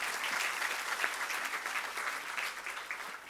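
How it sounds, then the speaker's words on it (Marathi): Audience applause at an awards ceremony: a steady, dense wash of many hands clapping at once, loud and sustained throughout with no voices over it. "एकदा जोरदार टाळ्या."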